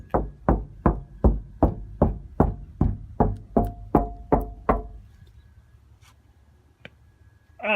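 A rapid run of about ten hollow knocks on an insulated Sprinter van door, close and evenly spaced, then a quiet stretch with a faint tap.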